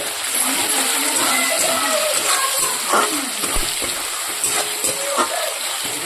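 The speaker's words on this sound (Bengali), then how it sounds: "এবার মশলাটা আমি কষিয়ে নিচ্ছি" Spice paste (masala) frying in a pan for a chicken dish, giving a steady close sizzle with soft stirring scrapes and small pops throughout, no talking.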